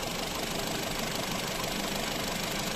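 A steady, muffled idle from the 1.6-litre engine of a 2018 Skoda Octavia with automatic transmission hums evenly throughout with no breaks or other sounds.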